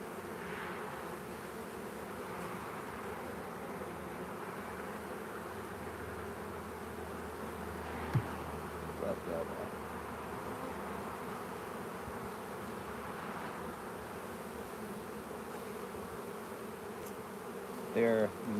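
A honeybee colony buzzing during a hive inspection on a farmstead, a faint, steady, even drone carrying on throughout with only a few small knocks and handling sounds.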